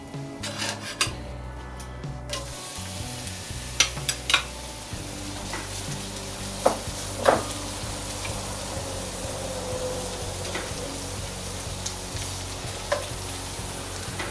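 Onions and beef liver fry in melted lard, a continuous close sizzle broken by scraping and clinking of a utensil against the pan.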